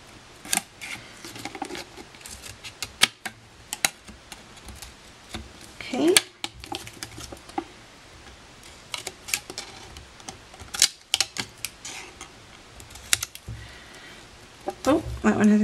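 Scissors snipping paper while cutting corners on a decorative tea light gift box craft, a few sharp, close snips scattered among quiet handling noises.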